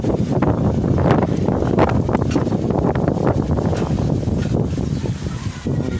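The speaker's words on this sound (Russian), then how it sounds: "Ветер." Strong wind buffets the microphone in a park in Sumgayit's 9th microrazyon, a loud continuous roar with gusty rustling and no pauses.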